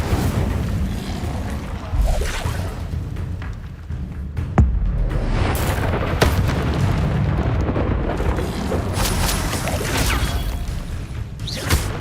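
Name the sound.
Incendio fire spell explosion, from a Harry Potter video game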